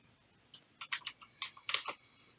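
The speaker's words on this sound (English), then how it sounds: "just typing in a name." Quick bursts of typing a name on a computer keyboard, a handful of crisp key clicks in uneven clusters, close and fairly quiet.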